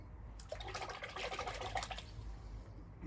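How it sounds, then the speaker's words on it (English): An object is rinsed in water, giving soft splashing and trickling sloshes for about a second and a half, faint and nearby with no talking. "Just give this a bit of a rinse."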